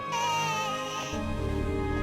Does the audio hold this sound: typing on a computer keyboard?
no